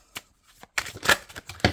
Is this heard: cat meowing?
no